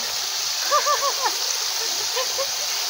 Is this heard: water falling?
yes